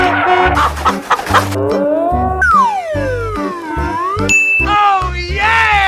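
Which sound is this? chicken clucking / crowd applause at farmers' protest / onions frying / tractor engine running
chicken clucking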